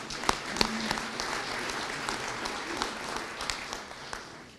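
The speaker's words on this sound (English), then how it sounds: "we can clap for David." An audience at a police services awards ceremony applauds for several seconds, a dense steady clapping with a few sharper individual claps standing out.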